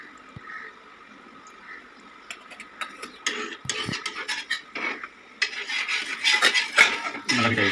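Chicken tikka frying in peanut oil on a tawa, with stirring and metal scraping growing busier and louder toward the end, close and without talk.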